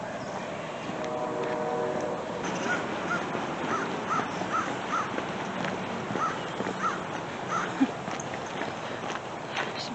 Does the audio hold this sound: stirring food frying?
no